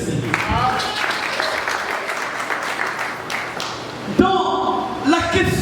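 A church congregation breaks into sustained applause and clapping, loud and close, with voices and cheers mixed in and a brief pause before clapping resumes near the end.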